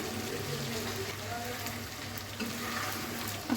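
Pigeon meat goes into a spiced pan to be braised, with a continuous moderate sizzle and light stirring sounds throughout and a small clatter at the very end.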